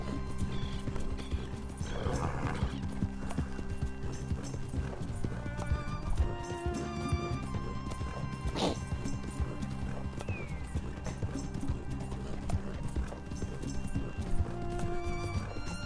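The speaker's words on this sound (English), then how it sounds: "Horse." A horse clip-clops in a steady hoof rhythm while whinnying and neighing loudly, with rustling and mechanical sounds in the background.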